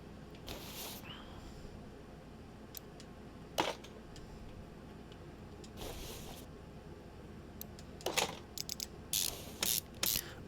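Mechanical clicks and ratcheting from a car lift lowering a vehicle in the Car Mechanic Simulator 2021 game, sparse and isolated over a quiet background, ending in a cluster of sharper clatters.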